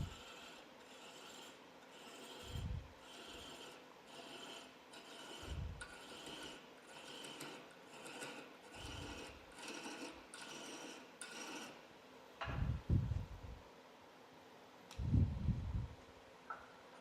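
A hand die cuts thread into metal, giving a steady rasping, scraping rhythm of repeated strokes up close, with a few louder low thumps near the end and no talking.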